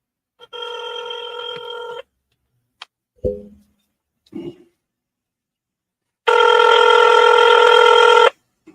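A telephone rings out while a call is placed, giving two loud, buzzy ring bursts about two seconds long, separated by quiet and a few faint clicks and knocks.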